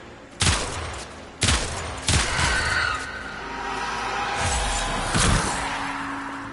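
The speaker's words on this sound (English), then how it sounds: "we're gonna go ahead and charge up the Incarnon rifle here" Sybaris Incarnon rifle in the video game Warframe, fired on Toxin. Four heavy, close shots come at uneven intervals, each with a booming tail and some lingering echo.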